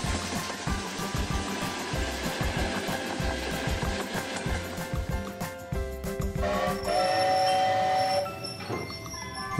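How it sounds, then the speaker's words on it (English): A wedge snowplow train rumbles along the rails, a dense continuous roar of wheels and engine with rhythmic low thumps, later joined by steady tonal whines, loud and close throughout. "Wedge snowplow train."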